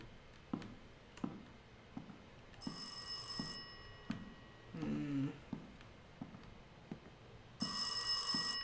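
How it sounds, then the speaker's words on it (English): Telephone ringing in the horror video game Rise of Insanity, two loud bright bell bursts several seconds apart over a quiet backdrop of faint ticking and soft knocks. "That was the phone."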